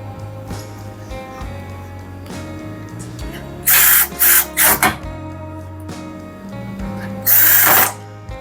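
A power drill drives screws into the casing of a Samsung WW90M64FOPO washing machine during a drum bearing repair, with two loud close whirring bursts around the middle and a longer burst near the end over faint background noise.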